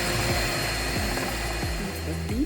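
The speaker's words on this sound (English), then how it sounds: "to whip the egg whites first before I do the egg yolks" An electric mixer whirs steadily as egg whites are whipped for an egg pie, a continuous motor hum with faint periodic dips, close and loud.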